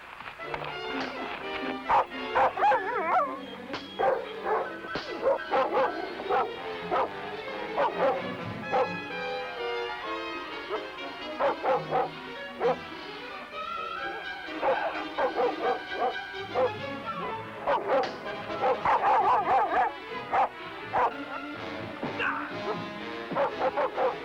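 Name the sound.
dog barking and yipping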